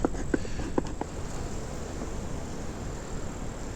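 Honey bees buzz in a steady, close drone around an opened hive, a continuous hum with a few brief clicks and knocks near the start.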